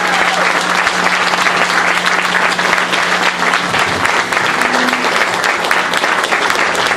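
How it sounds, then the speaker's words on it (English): Sustained applause from a large crowd at a groundbreaking ceremony in Anderson Springs, dense and steady clapping filling the whole stretch without a break. "Let's give a round of applause to Chief Upton."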